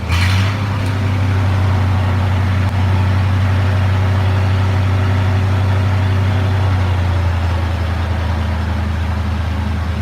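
A Lincoln engine-driven welder runs at about 1550 RPM in a shop, giving a loud, steady, low engine drone that holds constant from start to finish with no talking.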